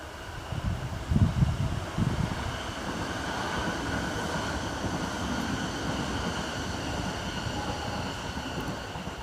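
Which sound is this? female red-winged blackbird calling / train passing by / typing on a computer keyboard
train passing by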